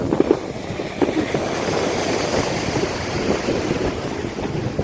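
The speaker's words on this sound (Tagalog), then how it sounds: "yung hangin ba, yung malakas, konti." Strong wind rushes and buffets steadily at a beach, mixed with the low wash of surf, loud and continuous throughout.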